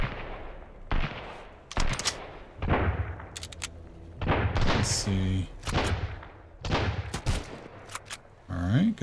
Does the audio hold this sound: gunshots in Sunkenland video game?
yes